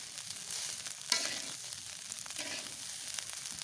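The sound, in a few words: rice being fried in a pan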